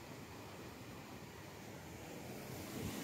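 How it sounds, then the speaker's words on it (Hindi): The Chuli river flowing outdoors, a steady broad wash of moving water mixed with wind noise on the microphone, faint and continuous without pauses. "ये है चूली नदी और आ रही है बनासकांठा में से।"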